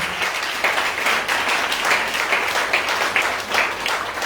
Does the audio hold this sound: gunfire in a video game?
no